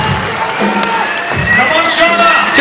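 A crowd at a women's bouldering world cup final in Vienna cheers and yells loudly, sustained shouts and whoops building as a climber works up the boulder, with a commentator talking over it.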